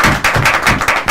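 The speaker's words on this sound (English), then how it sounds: "I think we should give Jason a round of applause" A round of applause at a football press conference, a brief burst of rhythmic hand claps from a small group, close and loud.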